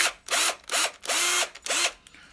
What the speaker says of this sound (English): And take this 1/4 inch drill bit.